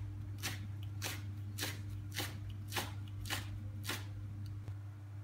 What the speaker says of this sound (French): Maintenant, on va couper la menthe.